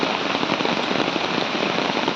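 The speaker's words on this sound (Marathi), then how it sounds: "मेंढरे गावामध्ये खूप पाऊस आलेला आहे" Heavy monsoon rain pours down steadily during flooding near the Ulhas River, a loud, dense, continuous hiss and patter of drops with no break and no voices.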